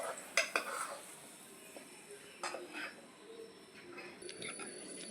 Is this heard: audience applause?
no